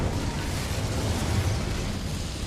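Incendio fire spell cast in the video game Hogwarts Legacy, a loud continuous roaring whoosh of flame with heavy low rumble sustained evenly throughout, heard alone.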